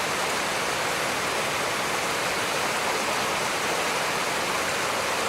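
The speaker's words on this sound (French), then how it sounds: "Pour réguler la cascade." Waterfall in the Aspe Valley of the Pyrenees, seen from above: a dense, continuous roar of falling water, steady and loud throughout with no voices.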